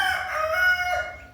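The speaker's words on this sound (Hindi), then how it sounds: "क्योंकि ये मुर्गा हमको ऐसे चिल्लाते रहता।" A rooster crows loudly and close by, one drawn-out call rising and falling over about a second, with no other sounds around it.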